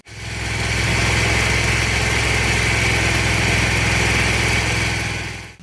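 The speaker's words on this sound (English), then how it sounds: "I'm going to run the engine to heat up the oil" A John Deere riding mower's small engine runs loudly and steadily nearby, a rough idling drone with vibration, starting abruptly and cutting off at the end.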